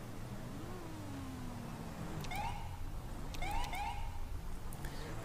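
Police sirens in GTA 5 with the LSPDFR mod, with rapid yelping wail bursts that come and go over a low rumble of traffic and engine noise.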